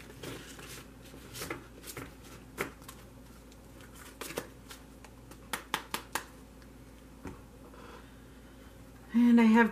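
A Thelema tarot deck being briefly shuffled, with soft card riffles and taps in scattered bursts, close and fairly quiet, with a louder hum at the end.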